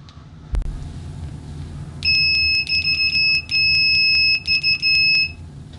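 A Klein MM320 multimeter's continuity beeper at maximum volume sounds a run of loud, shrill electronic beeps, some held and some short, following a single faint click.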